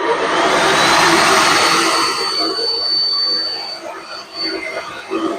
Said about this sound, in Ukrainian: гляньте, який класний фен